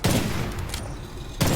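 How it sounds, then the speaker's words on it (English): Sniper rifle shots in the video game Witchfire, fired at a large enemy: two loud, booming blasts, one at the start and one near the end, with a long reverberant tail and game ambience between them. "The sniper rifle is really great for this as well."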